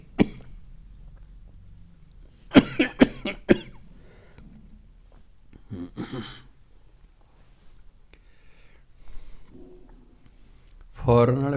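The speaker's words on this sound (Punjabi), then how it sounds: "ਤੁਹਾਡੀ ਖੰਘ ਨਹੀਂ ਹਟੀ?" A man coughs in a few sharp, close bursts, with a throat-clearing sound, amid quiet stretches during a Sikh religious discourse; some brief speech-like sounds appear as well.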